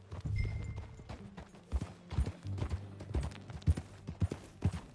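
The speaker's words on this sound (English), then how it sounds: "That a new horse?" Horse hooves clip-clopping at a steady walking pace in Red Dead Redemption 2, a rhythmic series of distinct hoof strikes heard fairly close, with no speech over them.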